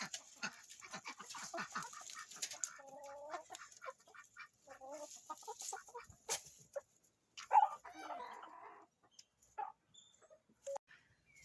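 Backyard chickens cluck and murmur in a garden, soft and fairly close, with irregular bursts of clucks and occasional louder squawks between quiet gaps.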